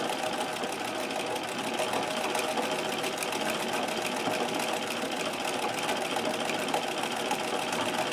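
A Singer 237 sewing machine runs steadily through zigzag stitching while filling in free-motion embroidery, its rapid even needle chatter and motor hum continuing without a break at close range.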